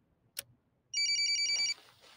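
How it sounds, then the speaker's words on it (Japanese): A mobile phone rings with a repeating electronic ringtone of bright, rapidly pulsing tones lasting under a second, preceded by a single short click, in an otherwise quiet room. "私の携帯が鳴ります。"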